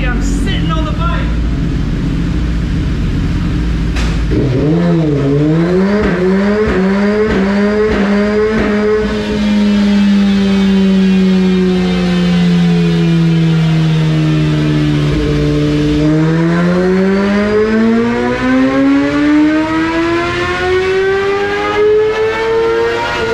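A 2018 Suzuki GSX-R1000R with a Brocks Performance full exhaust system revs up on a dyno, rising in a sweep, easing back, then climbing steadily to a loud, sustained high-rpm wail close to the microphone.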